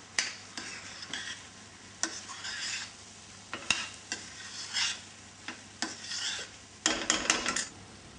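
Rice being stirred into a dry vegetable biryani masala in a pot, with repeated scraping, rasping strokes and a light sizzle underneath, close and moderately loud with no talking.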